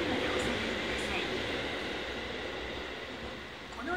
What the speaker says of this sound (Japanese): まもなく4番線に当駅止まりの列車が到着します。